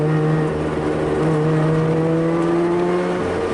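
Mazda FD RX-7 on a track during a driver-education day, its engine droning at a steady, loud pitch that slides up and down with throttle changes, heard close and continuous without any voices.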